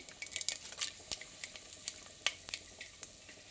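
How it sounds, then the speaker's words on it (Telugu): Whole garam masala spices sizzle in hot oil in a pot for mutton biryani, a steady crackling fry broken by frequent bright stirring clinks and scrapes, close and clear with no voices. "బిర్యానీకి హోల్ గరం మసాలా వేసుకుంటున్నాను."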